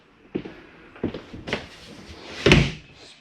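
Cabinet doors and drawers being closed inside a Heartland Prowler 271BR travel trailer: four or five close, sharp knocks and thuds in quick succession, the last one the loudest slam.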